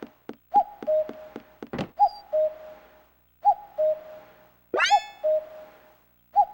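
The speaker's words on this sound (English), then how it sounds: "Cuckoo Forest, which has that lovely cuckoo noise" A two-note cuckoo call repeats steadily in the game Steambot Chronicles' Cuckoo Forest, clear and close, broken by sharp clicks and a few brief louder chirps.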